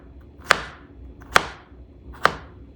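A knife chops cucumber into bite-sized pieces on a board for a tomato cucumber salad, three sharp, separate knocks spaced about a second apart, close and clear with no talking.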